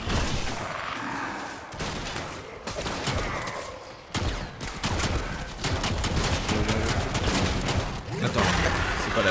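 Rapid weapon fire in Warframe, repeated bursts of sharp gunshots coming in clusters with brief pauses between, loud and near, with some game sound effects mixed in.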